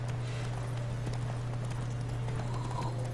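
A horse gallops in The Witcher 3, a steady clip-clop of hooves under a constant low hum, with faint bird calls in the background.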